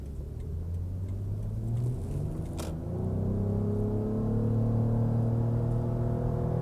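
A Lexus RX 450h hybrid SUV accelerating hard, a steady low engine and road rumble that rises gradually in pitch as speed builds, heard from inside the cabin with no talking.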